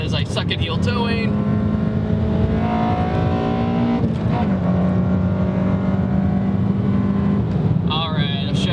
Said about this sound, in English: I'm gonna do a little bit of rev matching because I suck at heel towing.